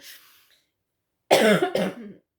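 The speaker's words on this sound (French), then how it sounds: "je viens de tousser dans la couverte" A faint sound at the start, a pause, then two sharp, close coughs in quick succession.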